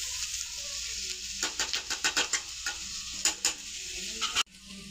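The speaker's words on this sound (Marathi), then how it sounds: "चला, आता आपण तेलामध्ये हे कारले परतून घेतलेले आहे. आणखी थोडा वेळ त्याला असं परतू द्यायचं." Bitter gourd (karela) stir-frying in hot oil, a steady sizzle broken by a quick run of scraping stirs, then a brief pause and more sizzling, with no voices.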